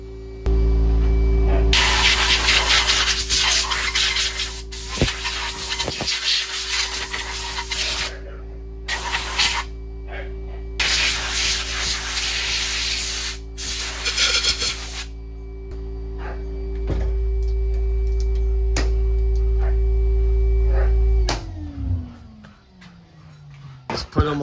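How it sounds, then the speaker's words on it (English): Compressed air blasts through rifle parts, the lower receiver especially, to clear out sand: a loud, steady hiss in long bursts with brief pauses, a low hum running underneath, and people talking at points. "Making sure you blow out all your little holes on here, like on the, especially on the lower. You gotta blow that out really good."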